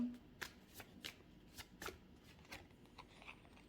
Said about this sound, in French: on va essayer de tirer une dernière carte pour conclure